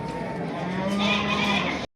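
Cattle at a livestock market in Batken, with a sustained low moo rising out of a dense, steady background of animal calls and market bustle, cutting off abruptly near the end.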